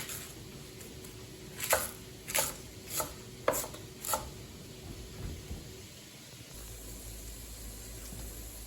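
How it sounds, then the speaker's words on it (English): A knife chops fresh cabbage into bite-sized pieces on a board, five crisp evenly spaced cuts close to the microphone, followed by quieter scraping against low background hiss. "We're going to chop it now and get it in little bite-sized pieces"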